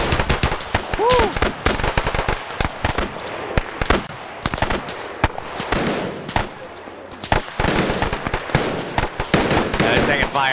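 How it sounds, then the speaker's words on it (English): Dense, loud gunfire in a World War II US paratrooper video game, with rapid automatic bursts and single shots layered over each other, along with voices talking during the firing. "They're taking fire from, is it those guys firing from the rear?"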